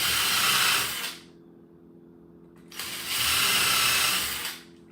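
Power drill driving screws into a wooden barn door, two sustained whirring bursts about a second and a half each separated by a short pause, close and fairly loud.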